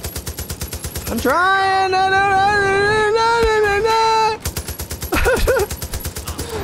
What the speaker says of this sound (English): I'm shooting the tires out.